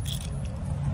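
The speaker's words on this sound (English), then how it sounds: "Now let's lock the door to here" Keys jangle and turn in the lock of a hotel room front door, a brief close metallic rattle at the start that gives way to low steady room hum.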